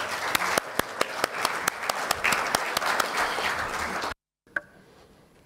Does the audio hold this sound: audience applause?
yes